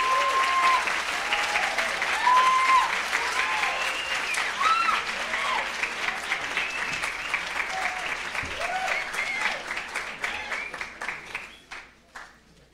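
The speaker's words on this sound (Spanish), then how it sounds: "Les pido que recibamos al doctor Fernández con un aplauso." An audience applauding to welcome a lecturer at an academic talk, dense sustained clapping from many hands that carries on for several seconds before thinning out and fading at the end.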